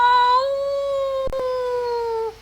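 A human voice imitates a wolf howling deep in a forest: one long, steady, close howl lasting about two seconds before it fades out.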